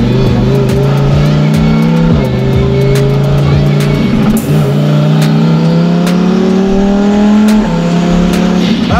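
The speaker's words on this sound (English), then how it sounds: "let's full boost this car again" A twin-turbo Lamborghini Huracan Performante at full boost, its engine roaring loud and close as it climbs through the revs, with quick gear shifts breaking the rising drone.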